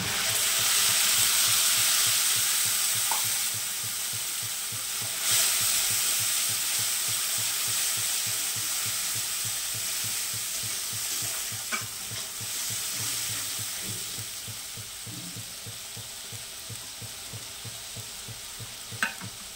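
Steady sizzling of spice paste frying in a hot pan, with scraping stir sounds and faint clinks throughout, no talking.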